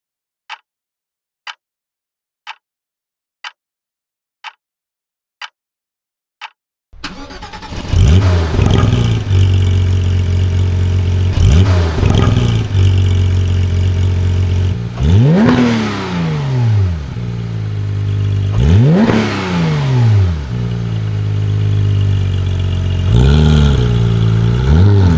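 A Porsche 911 GT3 Touring with manual gearbox: seven evenly spaced clicks, then the engine fires loudly and revs repeatedly in sharp rising and falling sweeps over a steady idle, close up with no talking.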